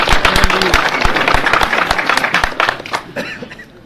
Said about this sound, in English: Give him a clap for that.